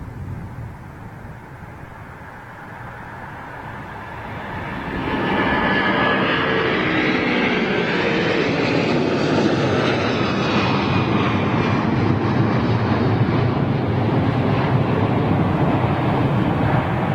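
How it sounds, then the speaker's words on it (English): An airplane taking off from Heathrow Airport, the engine roar swelling sharply partway through into a loud, sustained departure that holds steady with no talking. "Nice, loud departure, man."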